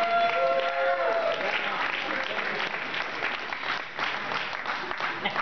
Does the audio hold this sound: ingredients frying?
no